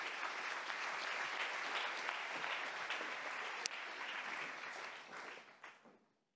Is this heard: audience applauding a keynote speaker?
yes